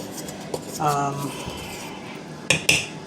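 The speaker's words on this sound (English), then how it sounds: "I'm just gonna mix it around a little bit just to make sure everybody gets a little bit of seasoning and salt" Seasoned ingredients with salt are stirred in a bowl during breakfast sandwich cooking, with soft scraping and a few sharp utensil clinks against the bowl near the end, under a person talking quietly.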